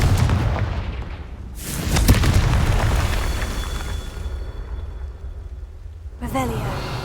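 Confringo fire spell cast in the Hogwarts Legacy video game: loud booming explosive bursts near the start and mid-clip, with rumbling roar between and a fresh burst near the end, over game sound.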